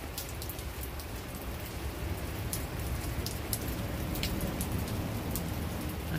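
Steady rain falls at the beach with a constant hiss and scattered sharper drips, close and fairly loud, with no voices.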